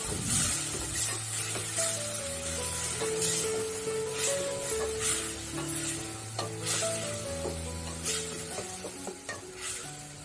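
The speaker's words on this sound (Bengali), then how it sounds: "পানি দিয়ে একটু ভালোভাবে নেড়ে নিলাম" Ilish fish curry stirred in a pan after water is added, with a continuous bubbling sizzle and repeated scraping stirs at close range, no voices.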